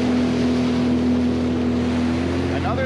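A Sea-Doo Spark Trixx personal watercraft runs on a lake under throttle, giving a steady, continuous engine drone with a constant hum and no break.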